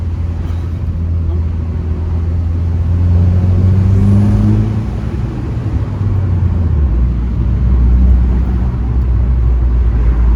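A 2025 Morgan Plus Four with a manual gearbox accelerates, its engine drone rising steadily in pitch, dropping at a gear change and climbing again, heard as a loud, steady hum from inside the cabin.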